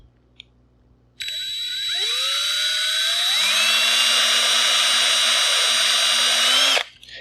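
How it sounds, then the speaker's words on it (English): A power drill bores a hole through a part for a Defiant Wings Sprite aircraft build: a close, loud steady whine that spins up and rises in pitch, holds for about five seconds and then stops abruptly. "I'm going to commit and drill this."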